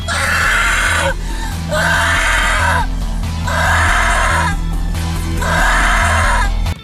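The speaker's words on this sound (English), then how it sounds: "Then they choose to use her scream on repeat." A woman's scream in a horror film repeats four times in a regular looping rhythm, each shrill, loud burst cut off by a brief gap, over a low steady hum.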